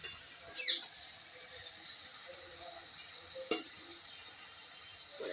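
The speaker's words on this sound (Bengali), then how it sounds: "পুঁই অল্প অল্প দেবো দিয়ে একটু নেড়ে দেবো" Tender Malabar spinach (pui shak) cooking in a pan for ghonto, with a steady soft sizzle broken by two brief sharp scrapes of a spoon stirring against the metal.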